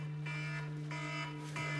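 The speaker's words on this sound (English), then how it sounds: "Got a little alarm going off." A reminder alarm goes off as a repeated electronic beep, three evenly spaced pulses over a steady hum, fairly faint, with no talking.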